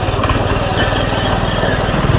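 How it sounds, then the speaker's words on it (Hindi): A steady tractor engine drones close by while ploughing a field, a low chugging rumble that runs without pause. "तो गाइस ट्रैक्टर की आवाज़ तो कम आ रही होगी"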